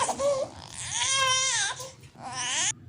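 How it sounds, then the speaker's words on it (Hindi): A baby cries in loud, wailing bursts with rising and falling pitch, close and alone. "रोने की आवाज आ रही है"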